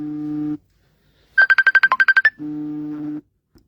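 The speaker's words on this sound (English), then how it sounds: "Should have turned off notifications." A phone notification ringtone: a sustained electronic tone, a quick burst of about ten rapid beeps, then another sustained tone, loud and clear with no talking.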